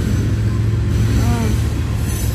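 A steady, loud low rumble of a passing train runs throughout, with an outdoor hum and faint background noise, no clear voices.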